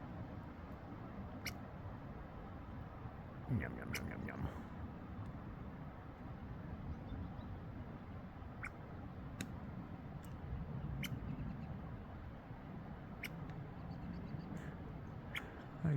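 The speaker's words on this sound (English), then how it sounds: "I like that his little tail needs to move every time he squeaks." A small rodent on a tree stump squeaks at a hiker outdoors, giving faint, sharp chirps at scattered intervals over a soft background hush, with a voice briefly speaking.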